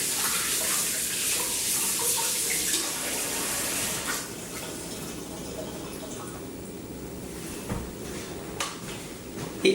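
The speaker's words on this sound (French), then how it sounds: "Je vais laver les mains, c'est pas bien long." Hands being rinsed under a running kitchen tap while making herb focaccia, a steady close splash of water that thins out midway, with a few clinks and knocks near the end.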